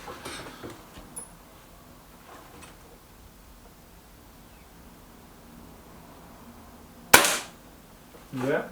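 A Gamo Boxer air rifle fires a single sharp shot at a target card, a loud crack near the end followed by a second burst, over a quiet background.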